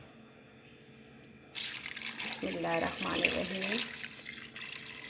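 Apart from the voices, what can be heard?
water poured from a jug into a pressure cooker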